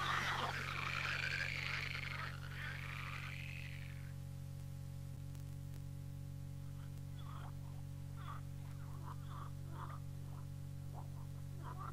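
Frogs croaking in a 1975 East German children's audio play on cassette, a burst of dense croaking at the start, then scattered croaks later, heard over a steady mains hum and tape static.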